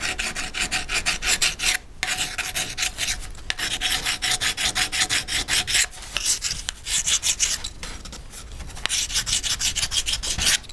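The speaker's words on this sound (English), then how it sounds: "you want to sand it to get rid of the file marks." A sanding stick rubs back and forth over a soldered metal bangle bracelet, a close rasping scrape in quick rhythmic strokes broken by short pauses, with no voices.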